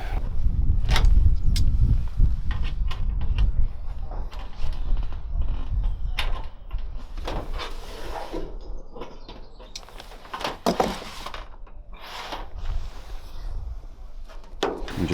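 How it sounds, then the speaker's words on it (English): Zinc roof trays are fitted at the back of a roof light with scattered close knocks, creaks and scraping metal handling sounds at an uneven rhythm. Pauses and quieter stretches fall between the bursts of work. "Now I'm going to start fitting the small roof trays"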